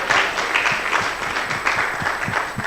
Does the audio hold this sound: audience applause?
yes